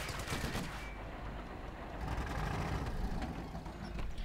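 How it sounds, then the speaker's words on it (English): A Sherman tank rolls forward firing in the Company of Heroes 2 strategy game, making dense, rumbling gunfire and engine noise with rapid shots over a constant loud din and no voices. "There goes Sherman rolling forwards and firing away."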